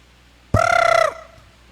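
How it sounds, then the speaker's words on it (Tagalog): A single loud fowl call, likely a turkey-like gobble, rings out for about half a second with strong harmonic tones and then fades into quiet. "Murag manok."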